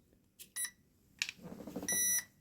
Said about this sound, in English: the first beep tells you it's on, the second beep tells you it's connected to the remote